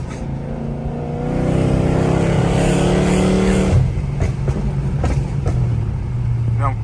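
Dodge SRT car driving on the road, a loud engine roar that builds and holds, then drops to a steady cruising hum, with a voice speaking over it.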